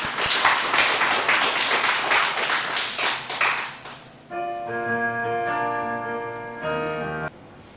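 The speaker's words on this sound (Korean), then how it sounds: "우리 영광의 박수 드리겠습니다" A church congregation claps in praise after a prayer, with brisk, fairly loud clapping for about four seconds that fades as sustained keyboard or organ chords take over.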